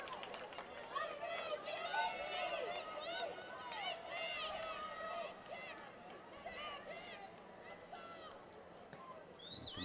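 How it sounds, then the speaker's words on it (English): Crowd at a women's university rugby championship match between Guelph and Queen's yelling and cheering steadily throughout, a dense wash of many voices with excited shouts rising above it, close to the microphone. "With the mic out over top of the crowd here, we can hear them yelling"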